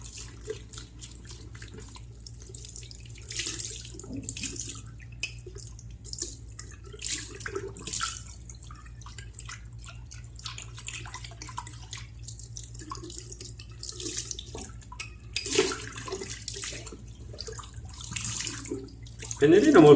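Hands are rinsed under a running tap after shaving, a soft steady trickle with intermittent splashes and drips, fairly quiet and close, with no talking.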